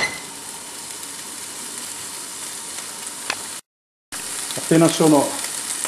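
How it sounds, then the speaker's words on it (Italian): Diced cooked ham sautéing in a pan with pasta sauce, a steady soft sizzle and frying hiss, close, briefly cut out, then someone speaks over it near the end. "Uniamo ora il prosciutto cotto, facciamo saltare anche lui"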